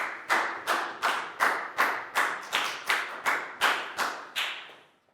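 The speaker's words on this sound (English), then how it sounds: "a big round of applause for Nadia" A class of young pupils applauds a classmate in an English lesson with about ten loud, rhythmic unison claps, evenly spaced and close by, with no talk.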